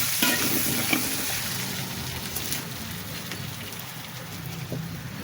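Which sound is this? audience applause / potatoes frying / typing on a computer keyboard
potatoes frying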